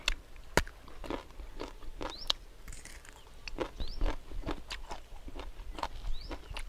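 Crunchy bites and chewing of crispy grilled pork large intestine stuffed with lemongrass, sharp close crunches repeating every half second or so, with no talking.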